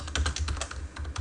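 Quick bursts of typing on a computer keyboard, a rapid uneven patter of key clicks close by with no talking.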